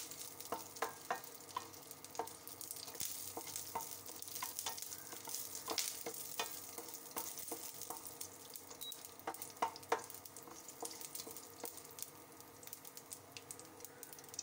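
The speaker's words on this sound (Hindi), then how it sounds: "उसमें सूखी लाल मिर्च और करी पत्ता डाल दीजिए हल्का सा इसको सौटे कर दीजिए" Mustard seeds, dried red chillies and curry leaves sautéing in oil for a Kerala-style beans stir fry, a faint sizzle peppered with rapid popping crackles and occasional spatula scrapes, quiet and close without speech.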